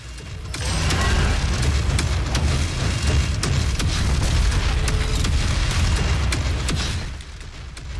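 Rocket launcher explosions from Doom during a boss fight, a loud, sustained barrage of booming blasts and mechanical rumble for most of the stretch, tapering off abruptly near the end.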